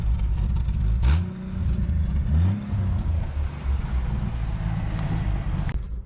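Jeep CJ7 Wrangler engine running steadily, with a couple of brief revs rising over a continuous low rumble, close and loud throughout.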